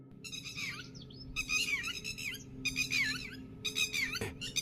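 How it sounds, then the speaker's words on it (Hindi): Several small birds chirp and tweet in a village morning scene, cartoon-style effect, with bursts of bright, rapid warbling calls separated by short pauses, fairly close and clear over a faint low hum. "चिड़ियों की आवाजें"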